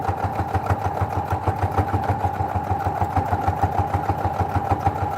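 A sewing machine stitches along the edge of a quilt, running with a fast, steady mechanical chatter and even rhythmic pulses at close range, continuous throughout with no talking.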